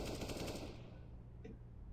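Burst of rapid gunfire in CS:GO, a fast rattling volley that cuts off within the first second, leaving a low steady hum and one faint click.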